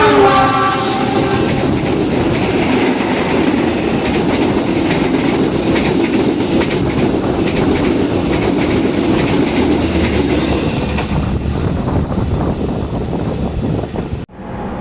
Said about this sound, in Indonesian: ini dia kereta api Argo Dwi Pangga dari stasiun Gambir tujuan akhir stasiun Solo Balapan